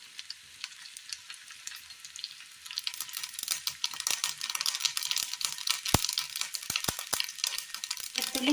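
Mustard seeds dropped into hot oil start sizzling after a quiet opening, building to a dense crackle with sharp pops and spits scattered over the last several seconds, close and fairly loud.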